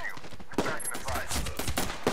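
Video game gunfire from the game Chop rattles in quick overlapping shots, close and busy, with a voice mixed in during the brief burst.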